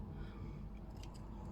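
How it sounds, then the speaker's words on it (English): Garden scissors snip once or twice through a tray of young onion seedlings, a brief soft cut close up over a low background hum. "all I'm going to do is literally take the scissors and give it a little bit of a trim"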